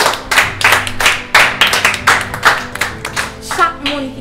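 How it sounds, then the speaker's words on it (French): An audience applauds in a classroom quiz setting, with a short burst of uneven hand clapping that rises and falls over several seconds before a voice briefly begins speaking near the end. "Chaque monde qui te répond à une question prend le soin pour applaudir"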